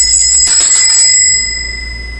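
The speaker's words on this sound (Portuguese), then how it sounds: "Vou tocar o sino" A small bell rings once with a bright, sustained metallic tone that slowly fades away, rung to close a spoken discussion program.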